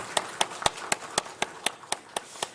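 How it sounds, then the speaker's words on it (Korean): Steady rhythmic clapping by a church congregation during a Sunday morning service, about ten even claps in a row, sharp and moderately loud, with no voices over it. "우리 박수로 한번 격려하겠습니다"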